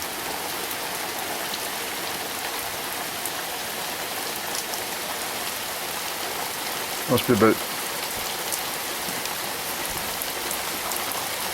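Steady, dense rain hissing on surfaces close by, with a brief murmur of talk partway through.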